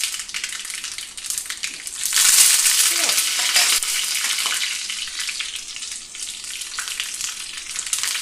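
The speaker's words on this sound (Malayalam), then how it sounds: "കടുകും ഉലുവായും കൂടിയാണ് ചേർത്ത് കടുക് താളിക്കുന്നത്" Mustard and fenugreek seeds splutter in hot oil, sizzling and crackling continuously, swelling louder partway through with sharp spattering pops, close up and without speech.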